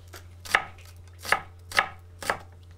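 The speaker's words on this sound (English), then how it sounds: "you want to slice the onion exactly the same way you sliced the tomato, very thinly" A knife slices an onion very thinly on a cutting board, giving four distinct, evenly spaced chops that land crisply and close with a quiet background and no speech.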